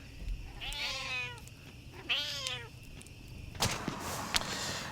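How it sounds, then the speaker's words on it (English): Several cats meow in a studio, two drawn-out wavering meows a second apart, followed by a rustling clatter, all fairly quiet against a low background hum. "Well, I never thought I'd say this, but this is too many cats."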